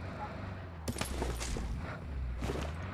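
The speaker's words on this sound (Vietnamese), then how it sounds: "Súng máy cốp 8 đây bà." Machine gun in PUBG firing short bursts of gunfire, a couple of sharp cracks over a steady low rumble, close and fairly loud.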